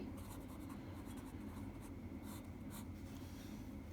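A math solution being written out by hand on paper for a Thai grade 5 fractions exercise: faint, quick pen strokes in short bursts over a steady low background hum, close by with no talk.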